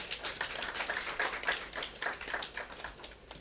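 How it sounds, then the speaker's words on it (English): Audience applause at a media launch marking twenty years of antiretroviral treatment, a light, fairly distant patter of hand claps with a few sharper individual claps standing out over a few seconds. "let's give ourselves a round of applause"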